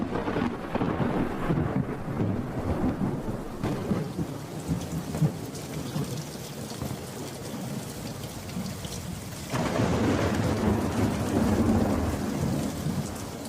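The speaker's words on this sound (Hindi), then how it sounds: "आखिरकार यहां बारिश आ रही है" Heavy rain pours steadily while deep thunder rumbles, and the downpour grows louder and denser partway through.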